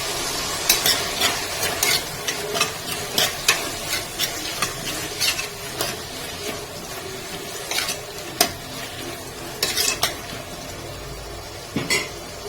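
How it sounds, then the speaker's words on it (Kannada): A spoon scrapes and stirs through semolina roasting in a heavy-bottomed pan, with repeated clinks against the metal over a soft sizzle. "ರವೆ ಹುರ್ಕೊಂಡ್ರೆ ಚೆನ್ನಾಗಿರುತ್ತೆ"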